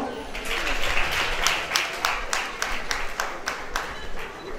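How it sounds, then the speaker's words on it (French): An audience applauds a violinist, with steady clapping that has some distinct sharp claps and fades slightly toward the end, while a voice speaks over it. "On l'applaudit encore."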